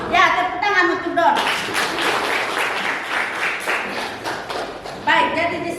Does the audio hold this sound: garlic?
no